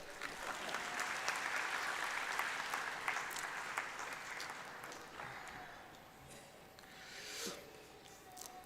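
Steady, distant applause fills the hall at a university graduation convocation, a long continuous wash of many hands clapping without speech.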